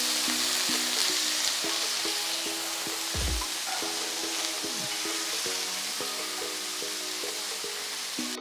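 Chopped brinjal sizzles and fries steadily in a pan with peanuts and curry leaves, a continuous close crackle with occasional stirring and no talking.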